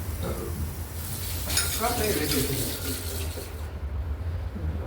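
Sweet corn snack frying in oil in a pan, a soft, steady sizzle close by with light stirring and scraping sounds in the middle.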